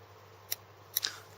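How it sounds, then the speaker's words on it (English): Small scissors snip through a stem while tying a fishing fly, giving three crisp close snips, one alone then a quick pair, against a quiet background. "And you can cut off that stem."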